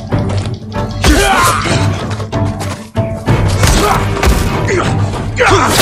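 Heavy booming thuds and crashes from cannon fire in the samurai action game Ghost of Tsushima, loud and repeated amid a dense, chaotic battle din.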